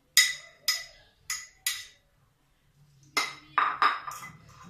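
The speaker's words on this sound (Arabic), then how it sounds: "صافي، ونخلطو مزيان." A spoon knocks and scrapes against a bowl while mixing a potato and chicken croquette mixture with a little beaten egg, four sharp clinks, a pause, then a quicker cluster of taps and scrapes.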